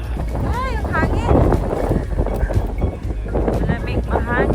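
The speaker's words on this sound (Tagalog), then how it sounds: "Ay, ang hangin!" Strong cold wind buffets the microphone outside a church in Canada, a loud, continuous low rumble with gusty swells, while people talk underneath it.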